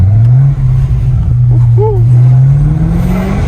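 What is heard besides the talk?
BMW M5 Competition V8 engine revving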